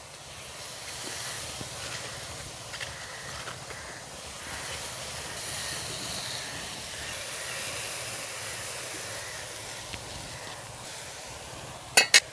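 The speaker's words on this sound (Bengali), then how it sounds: "আমি অল্প করে জল দিয়ে কচু শাকটা সিদ্ধ করে নিচ্ছি" Taro leaves boiling in a little water in a cooking pot, a steady soft hiss and bubbling simmer throughout, with a couple of sharp clinks near the end.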